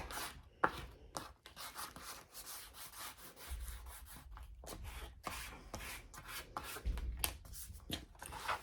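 A flat spatula spreads Fabrifix fabric glue across a craft book spine, giving repeated scraping and rubbing strokes, close and fairly quiet, with short pauses between passes and no talking.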